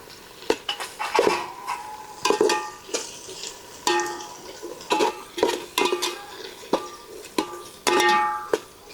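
Tomato pieces for mutton curry frying in a pan, with repeated scraping and clinking stir strokes of a utensil against the metal over a soft sizzle, close and moderately loud, no talking.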